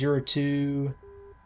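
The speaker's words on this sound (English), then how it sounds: "And I've got the Morse code that I can identify too." A radio navigation beacon's Morse ident in the DCS F-86F Sabre flight simulator, heard as a single steady mid-pitched beep that follows a stretch of voice and other tones.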